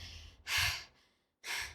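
Heavy, noisy breaths drawn through a deviated septum, two loud airy bursts with a quieter rasp between, close to the mic with no talking.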